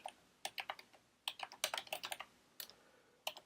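A command is typed on a computer keyboard in quick clusters of crisp, close key clicks, with short pauses between bursts and a quiet background.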